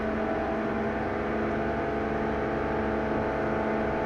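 Aircraft engines roar steadily at full throttle for takeoff in a flight simulator, a constant loud hum and whine that holds even and unbroken throughout, with nobody speaking.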